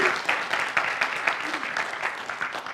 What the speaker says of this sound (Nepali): एकचोटि ताली बजाइदिनु उहाँको लागि